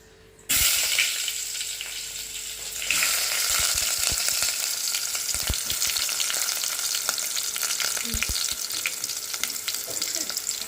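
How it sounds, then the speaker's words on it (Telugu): Sliced onions drop into hot oil for a drumstick curry, setting off a sudden loud sizzle that becomes a steady crackling hiss with occasional pops and spoon scrapes, with no talking. "ఉల్లిపాయలు వేస్తున్నాం చూడండి"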